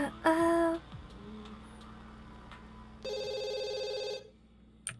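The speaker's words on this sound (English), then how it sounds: "Phone's ringing again." A telephone rings in The Sims 2: a short bright electronic ring burst, a quieter stretch, then a second longer ring, all sitting over soft game ambience.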